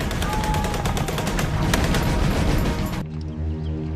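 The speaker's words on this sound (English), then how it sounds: "his Tommy gun blazing" Sustained World War II battle gunfire from a Tommy gun and machine guns, dense rapid bursts crackling loudly and continuously for three seconds before cutting abruptly to a low rumbling score.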